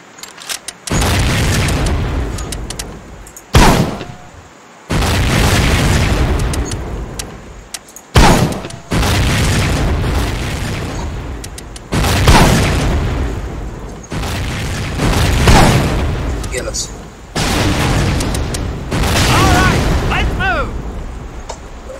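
Mortar explosions in the World War II shooter Medal of Honor Pacific Assault, a run of loud booming blasts with broad rumbling tails, several in succession, one after another with brief gaps between them.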